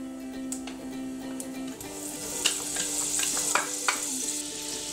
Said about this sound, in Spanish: Ahora a la misma sartén vamos a agregar una cucharada de mantequilla